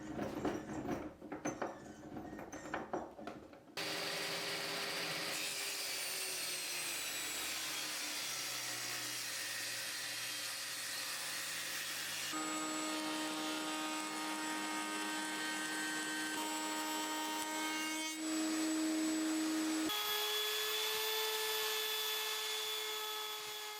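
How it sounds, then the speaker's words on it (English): Table saw cutting wood leftovers for a window frame groove on a 200-year-old house: a rough grinding start, then a long steady whining spin with shifting pitch, continuous and close throughout. "I had to stick the round leftovers together on my table saw"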